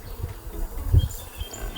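Honeybees buzz around a newly started hobby beehive, about two thousand of them tending the queen, a soft, close, wavering hum with no voices.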